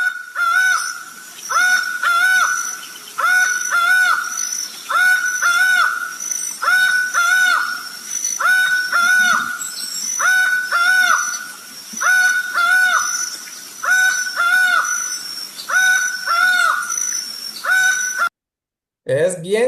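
Huactuc At bird singing a repeated two-part call, a clear descending hoot-like phrase returning every second or so over twenty seconds, fairly loud and close against faint higher chirps from other birds.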